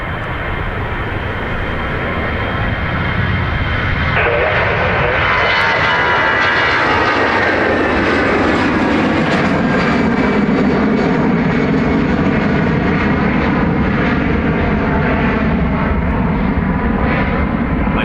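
Jet airliner roaring down the runway on departure at Dublin Airport, a loud sustained engine rumble with rising whine that swells and shifts as the aircraft passes nearby.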